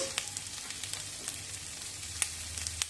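Diced potatoes and onion fry in a pan with a soft, even sizzle, close by, punctuated by occasional light clicks of a stirring utensil, with no talk.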